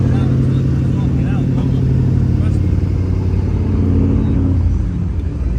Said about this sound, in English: Got the V10 out here too with a lot of modifications done to it.